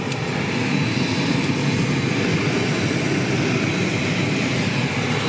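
A small propeller plane takes off near Santa Monica on the Los Angeles coast, its engine roar loud, steady and broadband from start to finish, with no voices over it.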